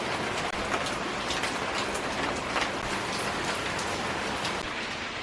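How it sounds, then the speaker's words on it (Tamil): Heavy evening rain pours down steadily in an even, dense hiss with scattered drops hitting surfaces, and no voices break the downpour. "மழை ஸ்டார்ட் ஆகும் நல்லா செம்ம மழை ஹெவி மழையிலேயே வந்தோம்"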